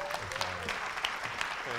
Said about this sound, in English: please give a very, very, very warm round of applause